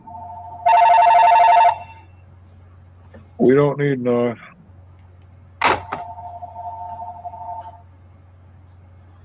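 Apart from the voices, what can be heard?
telephone ringing in the next room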